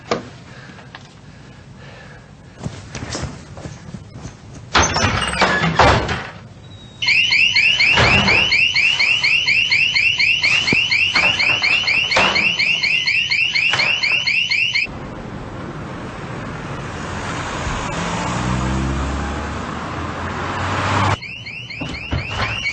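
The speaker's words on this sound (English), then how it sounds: "The guard got it, set the alarm off." A car alarm goes off in a night-time London street scene, its loud, steady electronic wail cycling in rapid repeating bursts after some clattering and thuds, then cutting out briefly before resuming under low background rumble.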